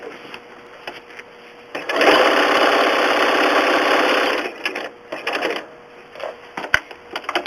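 A sewing machine satin stitching a moose applique runs in a loud, steady close burst of rapid needle chatter for about two seconds, with quieter handling clicks and short stitching bursts before and after.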